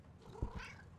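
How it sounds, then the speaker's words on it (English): A cat in the Demonologist video game gives one short, soft meow under a faint background hum, brief and fairly quiet. "Meow. This is the cutest thing in any game whatsoever."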